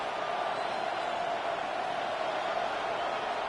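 A steady, dense roar from a large stadium crowd fills a Bears versus Vikings football game, loud and continuous without pause.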